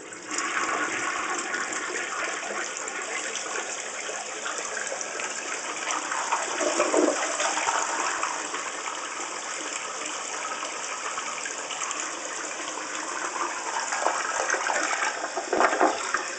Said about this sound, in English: Most awesome thing is it makes this toilet flush twice.